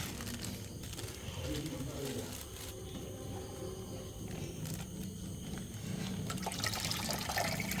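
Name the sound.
pouring fish with water into tank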